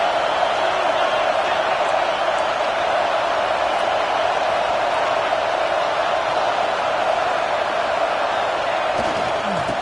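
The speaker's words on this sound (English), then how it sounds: "This crowd busting the decibel meter and trying to will a fourth down stop." A stadium crowd in the video game College Football 26 roars in a loud, continuous, dense wash of noise that fills the whole stretch without a break.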